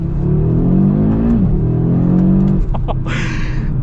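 A 2023 Audi RS3 accelerates hard, its engine note rising loud and close, then dropping briefly at a gear change before climbing again, with a short burst of higher whine near the end.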